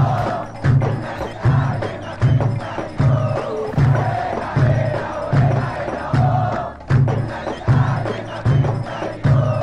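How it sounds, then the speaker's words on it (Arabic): Egyptian Al Ahly football crowd chanting "hela hela ho" in unison, a loud rhythmic stadium chant with regular beats roughly every second, many voices together and sustained throughout. "حيث كانت تهتف الجماهير هيلا هيلا هيلا هيلا هو الأهلاوي ما فيش زيه"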